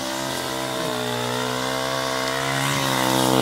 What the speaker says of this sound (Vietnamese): Phía bên này thì là anh thợ, anh ấy đang cưa quá.